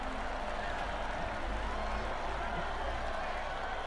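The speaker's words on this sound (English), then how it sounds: "The crowd is rightly celebrating these guys for putting on a great race." Dense, steady roar of a cheering and applauding crowd at the Motegi circuit after a race in MotoGP 22, continuous and fairly loud throughout.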